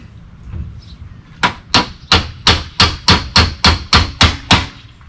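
Hammer blows during an RV awning replacement: eleven sharp, loud, ringing metallic strikes in a steady rhythm about a third of a second apart, close by, after a moment of low rustling.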